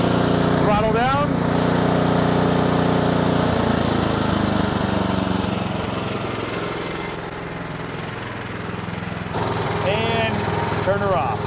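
The engine of an Ariens Professional 28-inch snowblower throttles down to a low idle, its loud, close, steady chug easing slightly in level, with a few brief squeaks over it.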